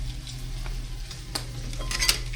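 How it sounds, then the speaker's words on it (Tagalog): Food fries in its own oil in a pan while breakfast is cooked, a steady close sizzle with occasional scraping stirs and a couple of louder crackles near the end. "Magpiprito pa siya dyan sa sarili niyang mantika."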